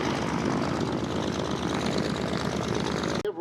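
A P-47 Thunderbolt propeller fighter roars past at an air show, its piston engine droning loud and steady throughout, with a sudden cutoff at the end.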